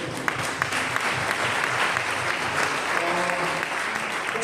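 A steady, dense burst of applause from a crowd at a Korean church leaders' inauguration ceremony, welcoming an arriving guest pastor; the clapping holds even and full throughout.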